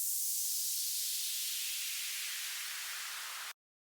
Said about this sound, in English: It's basically a white noise.